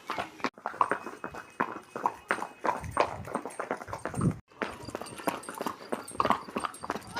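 Rhythmic clip-clop of a ridden mare's hooves at a brisk pace, close and continuous, with a brief pause partway through.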